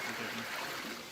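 Water poured in a steady trickling stream during outdoor village cooking of prawn masala spiral pasta, a continuous close splashing wash with no pauses.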